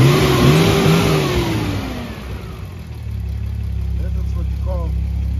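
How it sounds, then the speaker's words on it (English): A Datsun's original six-cylinder car engine revs up loudly, then drops to a steady mid-pitched idle with a faint voice underneath. "Wow, this is the original engine?"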